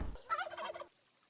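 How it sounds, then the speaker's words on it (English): A turkey in the Minetest/Luanti game from the Animalia mod lets out one short rattling gobble, clear and fairly quiet, followed by near silence. "This turkey is from the Animalia mod."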